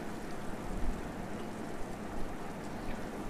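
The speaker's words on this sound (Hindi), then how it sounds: "बरसात हो रही है." Steady rain falls in the video game The Last of Us Part II, a continuous even hiss of drops with no voices and no break across the stretch.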